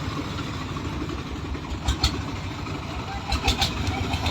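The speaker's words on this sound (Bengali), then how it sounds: "আমাদের একটি বোট অলরেডি চলে যাচ্ছে, শত শত বোট যাচ্ছে" A motor boat engine drones steadily at Bholaganj, a low continuous rumble with a few brief clatters and faint voices in the background as the boat pulls away.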